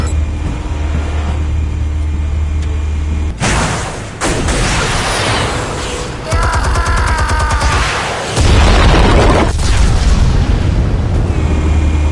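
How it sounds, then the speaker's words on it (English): Explosives detonating in the video game Batman: The Telltale Series, loud deep booms and rumbling blasts in several bursts with heavy low rumble and debris noise between them. "Explosives armed. Fire when ready."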